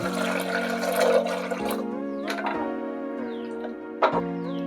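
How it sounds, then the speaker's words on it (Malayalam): Water is poured into a pot of salted lentils cooking for Kerala-style sambar: a steady close splashing rush for about a second and a half, then quieter tonal ringing and a few small knocks, with no talking. "ഇതിലേക്ക് നമുക്ക് ആവശ്യത്തിന് വെള്ളം ഒഴിച്ച് വേവിച്ചെടുക്കാം."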